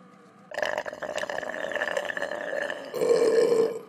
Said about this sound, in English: Such a dreamy burp.